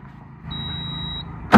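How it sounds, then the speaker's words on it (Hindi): Arjun Novo tractor with a fitted turbo: over a low idle, a sharp steady turbo whistle sounds for under a second, then stops, followed by a sudden loud knock. "अब दिखाऊंगा आपको दोबारा से सिट्टी इसकी"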